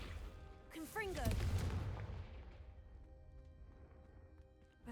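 A Confringo explosive spell going off in a video game: a sudden booming blast with crackling debris that swells quickly, then decays into a long fading rumble over several seconds, with a brief voice just before the burst.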